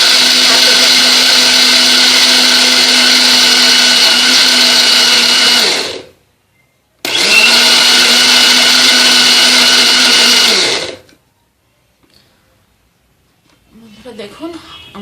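An electric blender purees a banana face pack in two loud, close bursts of high whirring motor noise, the first about six seconds and the second about four, separated by a brief pause and followed by quiet with a little faint handling sound.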